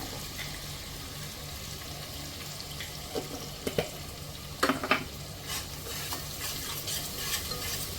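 Onions frying in very hot oil with a pinch of salt for vegetable biryani, giving a soft continuous sizzle up close, punctuated by several spoon stirs and scrapes against the pan; no speech.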